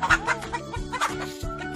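A chicken clucks in short, rapid bursts at close range while being caught, the clucks coming in an uneven rhythm against a faint background.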